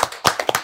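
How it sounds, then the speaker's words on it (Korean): A few sharp, close hand claps in a quick uneven burst, heard during a university intellectual-property evaluation show after a poll result is revealed. "이건 박수 한번 치고 가야 돼요."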